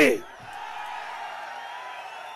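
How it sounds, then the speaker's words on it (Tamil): A crowd at a political rally in Dharapuram, Tamil Nadu, gives a short burst of cheering and whooping that quickly settles into a sustained, steady crowd murmur. "இந்த மக்களுடைய ஆரவாரம் மகிழ்ச்சி"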